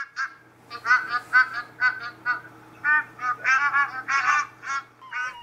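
Migratory geese in the Kumaon region call in a rapid series of nasal honks like an old-fashioned horn, close and loud, repeating with only short gaps for several seconds.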